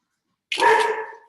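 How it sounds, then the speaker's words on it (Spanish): A dog barks once close by, a single sharp bark that cuts out of silence and trails off quickly. "digo que sonó el perro otra vez"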